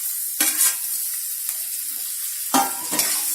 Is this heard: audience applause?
no